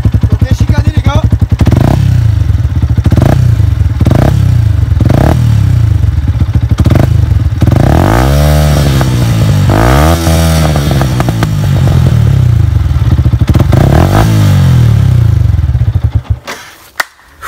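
A 2011 Yamaha YZF R125 motorcycle with aftermarket exhaust, close and loud, revving repeatedly in sharp rising and falling bursts over a steady idle before cutting off at the end.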